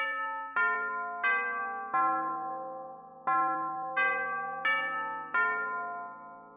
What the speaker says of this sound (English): The clock tower bell rings